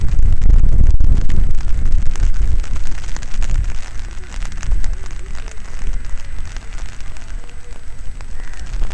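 Steady rain hiss fills an outdoor cricket ground in Jammu, with heavy low rumble and wind-like buffeting at the start before settling into a constant downpour.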